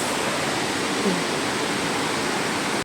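Meenmutty waterfall roars as a dense, constant hiss of falling water, loud and enveloping, holding steady for a few seconds before cutting off abruptly.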